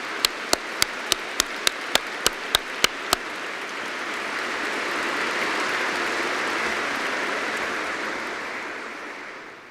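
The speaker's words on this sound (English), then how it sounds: "So can we give them a round of applause too?" A university degree ceremony audience gives a long round of applause. A few sharp, evenly spaced claps ring out at first, then the whole hall joins in with a broad, steady roar that gradually fades.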